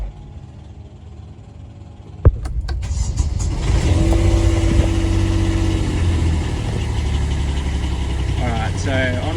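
A Kubota tractor diesel engine, fitted with a Bosch alternator that is not charging, cranks and fires after a glow, then settles into a loud, steady idle with a voice talking over it.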